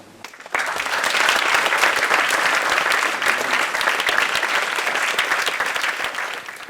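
Audience applause at an interview event, starting abruptly after a quiet moment and holding as a dense, steady burst of clapping that tapers only slightly, with no talk over it.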